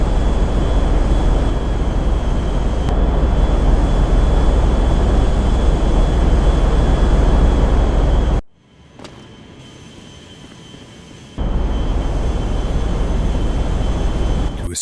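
A steady, loud roar from an airplane in flight in GTA 5 fills most of the stretch, cuts to a quieter hum for a few seconds, then returns at full strength.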